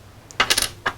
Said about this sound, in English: So I'm going to take the tactical ring off